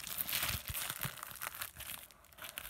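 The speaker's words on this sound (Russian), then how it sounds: "Сейчас начнем открывать посылки." Packaging crinkles and tears continuously as parcels are cut open with a small knife, a close busy rustle with sharp ripping bursts and no talking.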